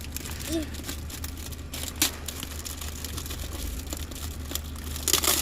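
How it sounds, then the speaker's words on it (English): Crinkling, rustling and brief tearing as a taped cardboard package holding custom Nike Huarache sneakers is opened by hand, with sharp rips near the end and a person talking throughout. "the clip of her actually opening the box on the day she received it"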